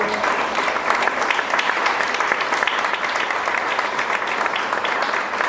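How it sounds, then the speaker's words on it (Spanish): Church congregation clapping as an offering of praise to God, a dense, loud, sustained roar of many hands that holds steady throughout, with a faint murmur of voices beneath. "Dame una ofrenda de palmas al Señor"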